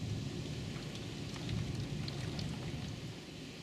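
Steady rain pours down on a river during a kayak bass fishing trip, a dense continuous hiss without pauses, close and fairly loud, with no voices.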